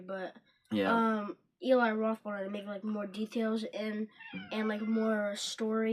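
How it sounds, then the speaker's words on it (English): A house cat meows a few times in the background, faint and brief, while two people keep talking over it. "That's our cat."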